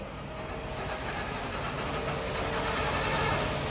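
A massive farm tractor's engine runs steadily inside a shed, a continuous loud rumbling drone with no breaks or changes.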